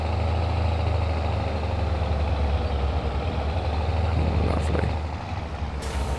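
A tractor engine running as it drives across a hay field, a steady low rumbling drone with constant loudness and a few faint rattles near the end, no talking.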